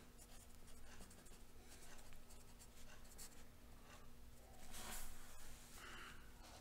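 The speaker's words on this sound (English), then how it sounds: "And I'm going to write summary." A pen writes by hand on paper during a math lesson, quiet scratching strokes near at hand under a steady background hum, with no one speaking.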